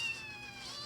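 A cat gives a single short, thin meow, close and fairly quiet, with no talking.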